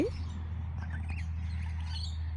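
Small parrots at an evening bird bath give a few short, high chirps and squeaks, brief and somewhat faint over a steady low hum, without any talking.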